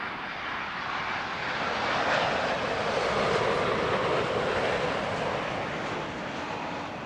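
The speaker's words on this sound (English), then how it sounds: "The American Dreamliner there, sporting a replacement radome or nose cone." An American Airlines Boeing Dreamliner jet at Heathrow Airport produces a continuous broad engine roar that swells to a peak mid-pass and then slowly eases, with no voices.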